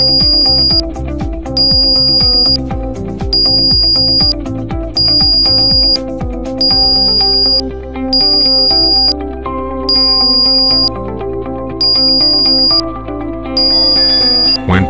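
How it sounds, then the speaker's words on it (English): A Great 5000 metal detector sounds over a target: a series of about nine evenly spaced high electronic beeps repeats over a steady tonal hum, loud and close. "The device beeps intermittently when approaching the target, and the sound is continuous when the target is reached."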